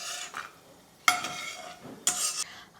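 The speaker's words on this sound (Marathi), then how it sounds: "याच तेलामध्ये कांदा तळून घेतो." Onions fry in hot oil in a pan for mutton biryani, a quiet sizzle broken by two sharper bursts of hissing and stirring scrapes about a second apart.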